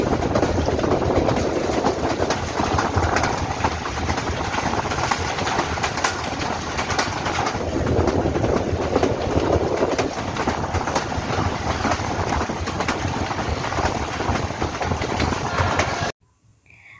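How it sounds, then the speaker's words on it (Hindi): A moving train rolls steadily along the rails, a loud, continuous rumble with rhythmic clatter from the wheels that holds for over fifteen seconds before cutting off abruptly. "रेलगाड़ी बगैर रुके बगैर थमे अपनी मंजिल की तरफ रवां दवां थी।"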